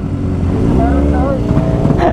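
A Kawasaki Ninja ZX25R with an SC Project exhaust revs up loud and close, its engine pitch climbing and wavering in a short burst while a voice talks over it.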